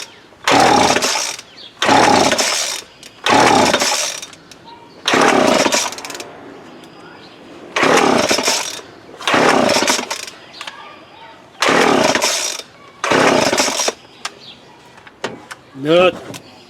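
Repeated pull-starting of a McCulloch Mac 3516 chainsaw with carburetor problems: about eight loud rasping bursts of the recoil starter and engine turning over, each a second or so long, separated by short pauses, without catching.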